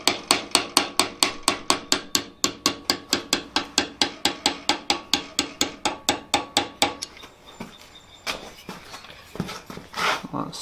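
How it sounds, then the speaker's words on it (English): A hammer strikes an engraving tool in a fast, even series of sharp metallic taps while engraving a hammer head, about thirty close blows over seven seconds, then a few scattered knocks and handling noises. "it is important to use the same consistent hammer blows"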